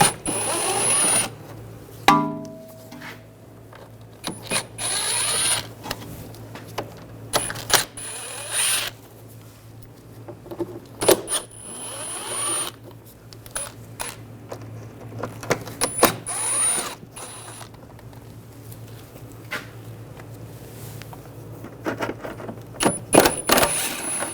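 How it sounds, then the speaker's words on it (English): Screws being taken out with a T25 socket while the inner rear fender well is removed from a 2009-2017 Volkswagen Tiguan, giving scattered small metallic clicks, ratcheting and clinks of loose screws, fairly close and quiet, with no talking. "I'm going to use a T25 socket. Take these screws out."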